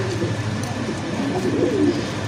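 A male black-checked pigeon on a farm coos in low, rolling phrases over a steady background hum, near and moderately loud, with no talk.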